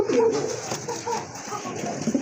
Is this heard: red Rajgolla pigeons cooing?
yes